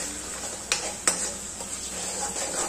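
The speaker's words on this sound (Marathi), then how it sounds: "ती काजूची पेस्ट केलेली ती टाकून घेऊयात, मिक्स करून घेते" Cashew paste is stirred into frying onions in a pan with a soft, continuous hiss, broken by two distinct scraping clicks of the spoon early on and fainter stirring afterward; no voices.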